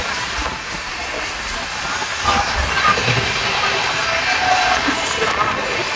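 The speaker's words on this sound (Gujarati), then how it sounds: "ટ્રેનમાં ફાઇનલી બેસી ગયા આપણે." Steady interior rumble and hiss of a moving passenger train, heard from inside a carriage on an Indian rail journey toward Vadodara, continuous and fairly loud with faint clatter.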